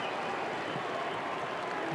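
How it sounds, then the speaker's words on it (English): A stadium crowd at a Perth Glory football match against Central Coast applauds for the club's 20th anniversary, a broad, distant wash of continuous clapping that stays even and unbroken. "you might be hearing the applause around the ground in the 20th minute to acknowledge the 20th anniversary of Perth Glory"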